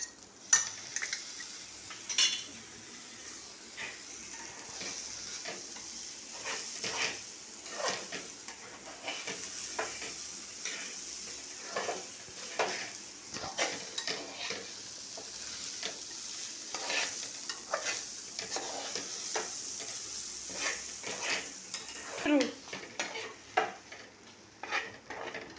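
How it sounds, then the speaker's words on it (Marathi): Masala and green coriander paste frying in hot oil in a pan, a steady soft sizzle broken by repeated scraping strokes of a spoon stirring and clinking against the pan, close and fairly quiet, with no talking. "तेलामध्ये ते भाजून घेऊया."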